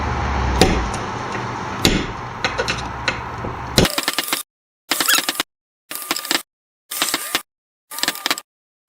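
A light hammer taps a double cardan joint on a car driveshaft being worked into place, a few sharp, isolated metallic hits followed by a series of evenly spaced short bursts of tapping.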